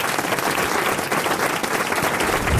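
Studio audience at the French radio show Les Grosses Têtes applauding loudly, a dense continuous burst of many hands clapping at close range that holds steady throughout.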